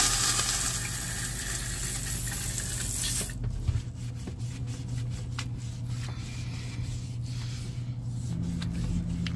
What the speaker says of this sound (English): Let's get some water going here.